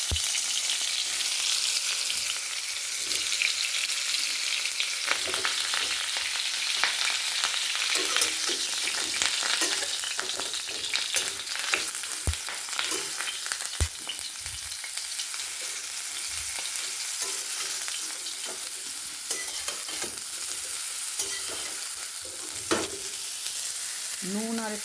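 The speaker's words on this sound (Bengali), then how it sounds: "এবার ফুলকপিগুলো ভেজে নেব" Cauliflower florets with salt and turmeric sizzle in hot mustard oil in a village kitchen, a dense continuous crackle with scattered sharp pops and occasional scraping stirs.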